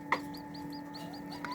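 Newly hatched serama chicks peeping in a small enclosure, repeated faint high chirps in a loose rhythm over a steady background hum, quiet and close, without talk.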